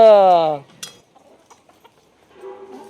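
A rooster on a branch in a rural Konkan village gives a short burst of loud, close clucking at the start, then the scene falls nearly silent apart from faint rustles and a soft murmur of distant voices near the end.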